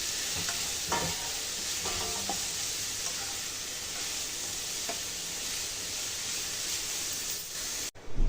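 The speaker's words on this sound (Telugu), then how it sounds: "ఇప్పుడు దీన్ని కలుపుకొని కొంచెం కుక్ చేసుకుందామండి" Grated bottle gourd being stirred in a pan while it cooks for kheer, a steady low sizzle with soft scraping strokes, ending in a brief clatter, no one talking.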